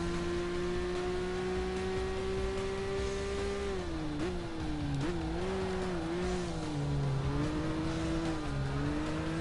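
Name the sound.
Peugeot 205 Turbo 4WD car engine in Gran Turismo 5 video game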